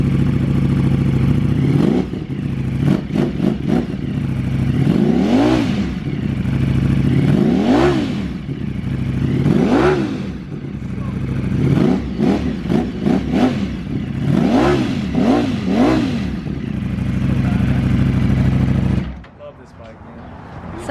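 Custom Ducati Streetfighter motorcycle engine blipped in short, repeated revs, each rising and falling quickly over a steady idle, loud and close, with people talking around it before it cuts off near the end.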